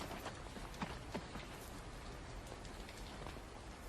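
Steady rain falling outdoors during a picnic, a dense continuous patter with a few louder drops landing close by, no voices.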